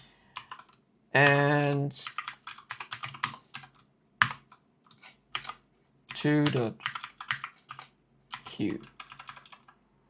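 Bursts of rapid clicking keystrokes on a computer keyboard come in short runs between pauses, fairly close, while a person talks over the typing.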